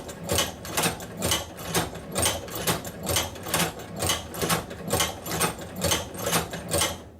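A hand-operated saddler's sewing machine stitches through leather, each full down-and-up stroke making a rhythmic mechanical clack, about two strokes per second, steady and close with no talk.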